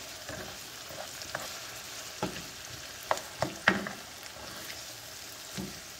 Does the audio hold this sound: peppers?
yes